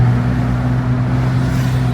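A car engine with its exhaust silencer removed runs loud and steady, a deep constant droning rumble with no clear rise in pitch, heard up close with no voices.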